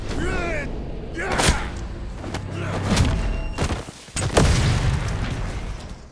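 Several deep booms and thuds from an explosion in a tale of Japanese soldiers killed on patrol in a jungle, loud and close, set among ongoing narration.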